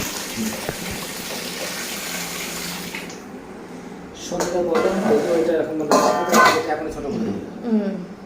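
Tap water runs steadily while mutton is washed in a home kitchen. It fades after a few seconds and people talk and cough nearby.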